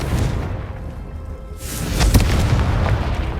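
A fiery Confringo spell explodes in the Hogwarts Legacy video game, a deep rumbling boom that swells into a loud, sustained blast over continuous game ambience.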